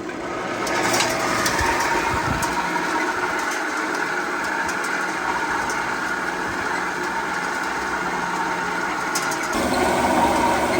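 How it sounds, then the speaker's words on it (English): Steady motor drone from a gold concentrate washing plant with a jigging sluice, running continuously at an even, loud level with mechanical rattling on top and no voices. "And then see your motor's going"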